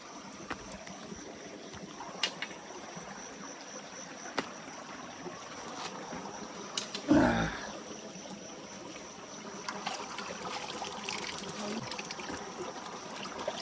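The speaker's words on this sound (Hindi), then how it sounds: "ये देखिए कितना अच्छा पानी निकल के जा रहा है इधर को जंगल को" Water flows out from an ashram toward the forest as a soft, steady trickle and stream under quiet outdoor ambience, with a brief louder splash or knock partway through and no talk.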